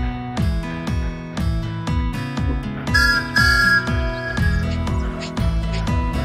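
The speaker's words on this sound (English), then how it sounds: "Beep, beep! Good morning, Percy, he whistled" A steam engine whistle in a Roblox train game, sounding as a steady tonal whistle over a loud, rhythmic chugging engine that runs throughout.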